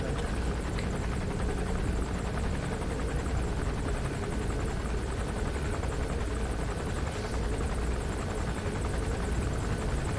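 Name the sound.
helicopter hovering in Metal Gear Solid V video game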